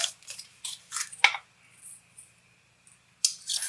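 Scissors trimming a paper greeting card, a run of crisp snipping cuts close by, several quick snips, a pause, then a few more.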